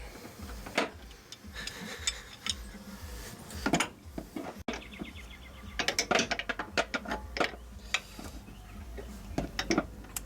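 Ratcheting wrench tightening a bolt on the control arm of a 2004 Chevy Trailblazer, with repeated bursts of close, sharp clicking and metallic ticks, some quick and some spaced, over a quiet background.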